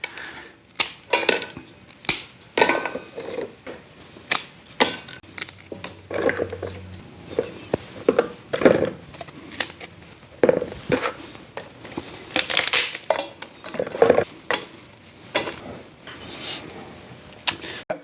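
Hickory bark is snapped by hand into small pieces, giving sharp, irregular cracks and crunches close by, with brief pauses between breaks.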